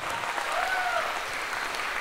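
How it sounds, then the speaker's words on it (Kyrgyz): Steady applause for a women's team at a lively comedy league game, dense clapping filling the whole moment with a faint whistle-like tone rising briefly above it. "Айымдар командасы бир кол чаап коюңуздар."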